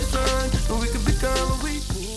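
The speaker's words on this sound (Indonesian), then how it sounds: "kita langsung goreng aja ya Besti ke minyak goreng panas" Chicken coated in black charcoal flour batter fries in hot oil with a close, steady crackle and sizzle throughout, with no voices.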